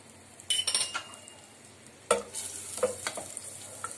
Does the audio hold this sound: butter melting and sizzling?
yes